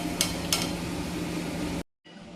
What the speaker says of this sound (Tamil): எண்ணெய் ஹீட் பண்ணி வச்சுருக்கேன். ஒன்று ஒன்றா போட்டு பொரிச்சிக்கலாம்.